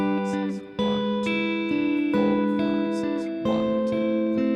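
Fingerpicked acoustic guitar playing an advanced verse, steady arpeggiated notes ringing over sustained chord tones, close and clear with no talking.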